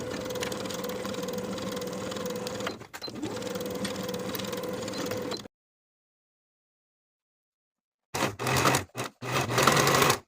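A sewing machine runs in a steady motor whir while stitching the rise seam of high-waisted A-line shorts with a 5/8 inch allowance, pausing briefly, then going silent before short stop-start bursts resume.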